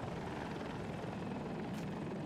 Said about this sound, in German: Heli kommt auf uns von links und Jet hinter uns.